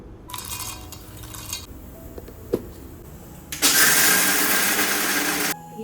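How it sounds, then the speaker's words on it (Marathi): An electric mixer grinder grinds peanuts in two loud, whirring bursts, the second longer and stronger, with a few clinks of the jar between them in a home kitchen. "आता ना शेंगदाणे वाटायचं आहे"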